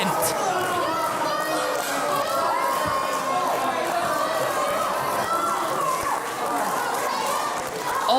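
A wrestling crowd cheering and shouting in a sustained, dense roar that includes many high young voices, with a commentator talking over it.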